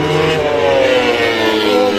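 Loud, sustained engine roar of a Ducati MotoGP racing motorcycle passing at MotoGP Bharat 2023, the pitch shifting slightly as it goes by, with no voices.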